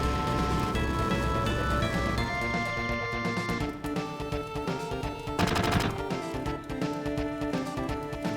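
Gunfire in a Final Fantasy 7 battle: rapid, repeated shot bursts ring out steadily over layered, tonal game music, with no voices.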